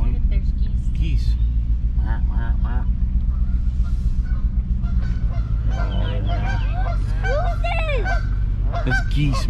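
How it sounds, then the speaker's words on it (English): Geese honk repeatedly by a lake, their calls rising in a cluster toward the end over a low rumbling engine, with people talking nearby. "There's geese. Geese."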